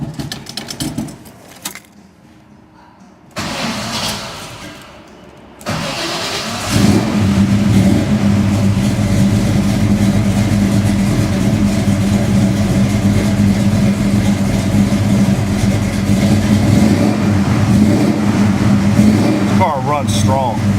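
1970 Chevelle SS 396 muscle car engine catching after a few cranks, then settling into a loud, close, steady rumbling idle with occasional revs, with people talking over it at first.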